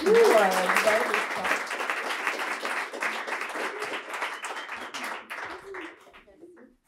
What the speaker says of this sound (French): on va tous applaudir Clotilde, Sandrine, David, Éléonore et Julie